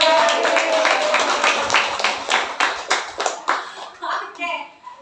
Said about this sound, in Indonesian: Bu, atau siapa Bu mau maju tepuk tangan?